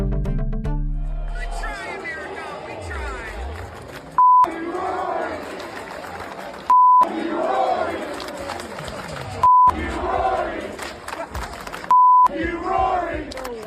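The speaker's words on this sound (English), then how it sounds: "That is the sound of American golf fans hurling abuse at Rory McIlroy" A rowdy crowd of golf fans shouts and jeers abuse in loud bursts, interrupted several times by beeped-out tones.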